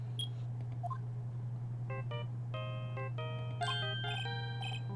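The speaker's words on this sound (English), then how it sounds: "You pressed redial on that there phone" A rapid string of phone dialing tones in Phoenix Wright: Ace Attorney as a redial is pressed, quick beeps in clusters over a steady low hum, with no talk.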